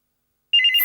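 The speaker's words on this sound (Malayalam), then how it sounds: "ഫോൺ വന്നു." A telephone starts ringing abruptly after half a second of silence, giving a bright, warbling electronic ring that sounds close and clear before cutting off.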